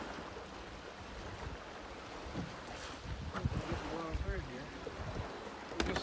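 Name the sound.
strong wind on lake during bass fishing from boat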